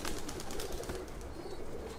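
Short-faced bootie pigeons coo in a loft in New Jersey, their soft calls half-buried in loud, constant background noise.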